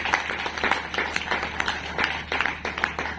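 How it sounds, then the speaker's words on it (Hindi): A room of people claps at a leadership training session, a steady, moderately loud patter of many hands that continues throughout. "अरुण जी के लिए जोरदार तालियां"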